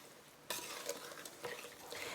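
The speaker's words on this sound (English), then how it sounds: "And everything you're going to just mix up with your spoon here." A spoon stirs sugar into a brownie cookie dough mixture, a soft sudden scrape followed by continuous quiet scraping and rustling strokes, close but faint, with no voices.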